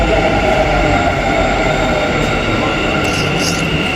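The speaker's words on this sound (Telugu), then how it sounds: "Just metro has came." A Bengaluru metro train rumbles in loudly and continuously, with a steady mechanical hum and a brief high squeal near the end.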